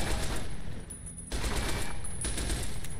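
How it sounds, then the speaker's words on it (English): Sustained automatic gunfire in the Fallout: New Vegas video game, dense rapid bursts with a short lull before resuming, loud and without talk. "I don't have enough bullets to save you, Gabe!"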